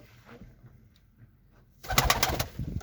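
Pigeons cooing softly at first, then a louder close-up burst of cooing and fluttering near the end.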